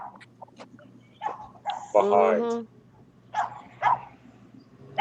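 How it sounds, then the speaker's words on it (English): A small dog barks and yips in a few short bursts at a distance, mixed in with people talking nearby. "Why is there a dog barking?"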